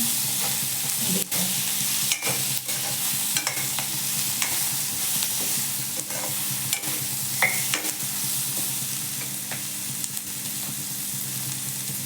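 Onion and garlic with turmeric frying in a pan for a country chicken curry give a steady, close sizzle, broken by repeated scraping and clacking as a spoon stirs the mix.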